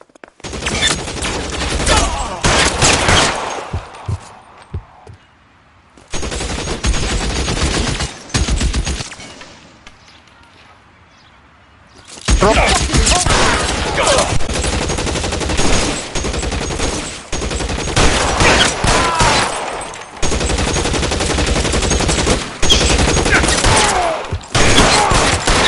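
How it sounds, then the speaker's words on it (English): Gunfire from the LA Noire video game, with loud, dense volleys of shots in long bursts, a brief lull partway through, then sustained heavy firing again. "Try shooting someone with a gun of his own."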